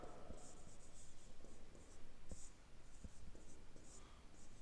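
Chalk or marker scratches faintly across a board during a classroom lecture, soft intermittent strokes with light taps under a steady background hiss.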